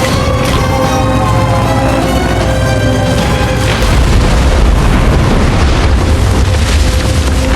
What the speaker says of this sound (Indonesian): Pesawat itu menjatuhkan beberapa bom dan memicu ledakan di sekitar kapal U-boat.